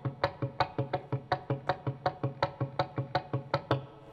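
An electric guitar riff is picked by thumb and index finger pivoting, giving a steady stream of crisp, evenly spaced plucked notes, close and moderately loud, with no voice.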